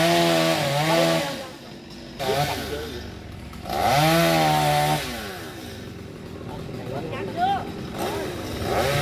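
Chainsaw cutting a tree in the countryside, the engine revving up and dropping back in loud repeated bursts with idling between them, while people shout nearby.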